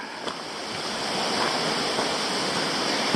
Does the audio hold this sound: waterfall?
yes